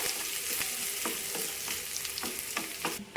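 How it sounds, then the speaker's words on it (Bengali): Garlic sizzles steadily in a hot pan for Bengali masoor dal, with a few sharp stirring scrapes and clicks cutting through the close, continuous frying hiss. "রসুনটাকে এবার আমি ভেজে নেবো"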